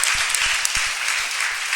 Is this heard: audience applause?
yes